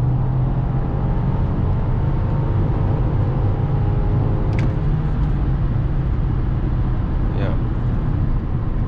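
A BMW X5 E53 4.4i V8 under full throttle heard from inside the cabin: a steady, loud low engine drone with road rumble, continuous and even throughout, with no talk.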